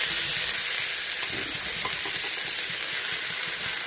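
Red amaranth leaves are stir-fried in a pan, giving a steady, close sizzling hiss with faint stirring scrapes underneath and no voices.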